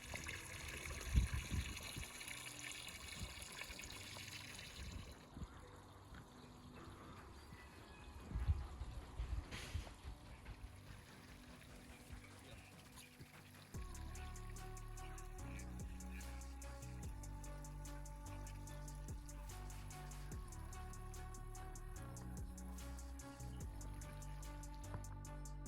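Water from a solar-powered pump flows into a goldfish pond through a solar filter, a soft steady trickle heard up close. Scattered rustling and knocks come first, then continuous music plays over the flow.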